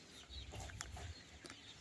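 Chickens on a Nepali farm with egg-laying hens and a rooster, clucking in short irregular bursts close by over a low rumbling background, with no talk.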